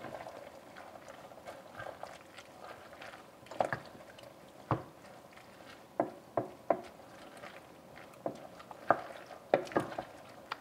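A creamy farfalle pasta sauce with ham pieces simmers and bubbles softly in a pan while a spoon stirs and knocks against the pan, leaving scattered light taps over the low bubbling.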